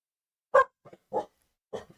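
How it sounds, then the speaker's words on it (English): Dogs bark indoors in a room, a few short sharp barks and yips separated by brief silences, close and moderately loud. "Why are you guys so barky the second I start?"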